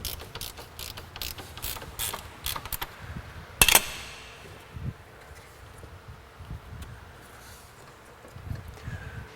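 Fasteners on the radiator of an Acura Vigor being tightened with a ratchet, a series of close, quiet clicking and rattling bursts with one sharper metallic clank partway through and scattered tool knocks after.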